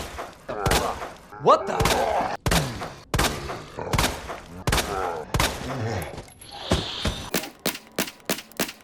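Samurai Edge pistol shots in Resident Evil 2 Remake crack out one at a time, about a dozen sharp close reports, spaced apart at first and then faster toward the end, with a brief startled voice early on.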